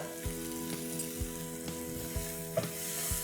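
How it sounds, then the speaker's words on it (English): Onions and spices, including turmeric, chili powder and cumin powder, sizzle steadily in a pan, a close continuous hiss broken by regular soft taps and stirring clicks, with no talking. "Just cook the spices as well, please."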